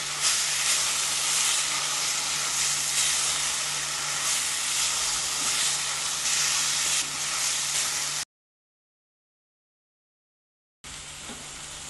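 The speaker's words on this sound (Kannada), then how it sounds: "ಇವಾಗ ಇದು ಒಂದು ಕಟ್ಟು ಮೆಂತ್ಯ ಹಾಕ್ತೀನಿ. ಇದು ಚೆನ್ನಾಗಿ ಫ್ರೈ ಆಗಬೇಕು." A bunch of fenugreek leaves fries in a pan for mutton keema curry, a loud, close, steady hiss and sizzle broken by a few seconds of total silence before the sizzling resumes.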